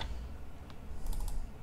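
Keys clack on a computer keyboard as text is typed into a chart field in Power BI, with a short burst of close, crisp clicks over a steady low background hum.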